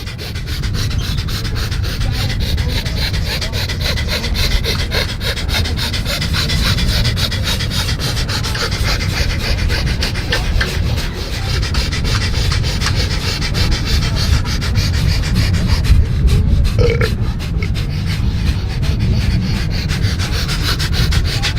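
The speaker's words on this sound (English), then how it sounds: "Breath of fire." Breath of fire breathing exercise, a steady, rapid, loud run of forceful rhythmic nasal breaths heard close and continuous for about twenty seconds, with no talking.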